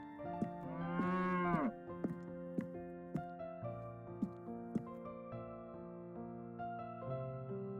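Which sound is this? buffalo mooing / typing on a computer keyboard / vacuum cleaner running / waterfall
buffalo mooing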